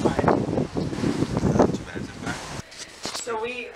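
Gusty wind on a cruise ship at sea buffets the microphone in low rumbling bursts, then eases as a voice is heard near the end.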